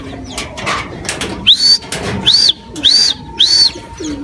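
A racing pigeon flaps its wings in quick loud bursts, up close, alongside repeated rising whistling tones and soft cooing.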